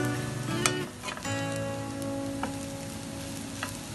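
Mixed fried rice sizzles loudly in a pan, a continuous close hiss broken by a few sharp scrapes and clinks of stirring.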